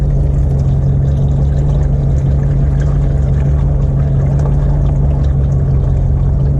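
Engine oil gushes out of the drain of a 1500HD truck, making a loud, steady pouring rush that runs without a break, with a low constant hum beneath it.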